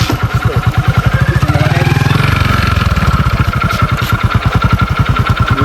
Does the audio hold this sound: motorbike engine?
yes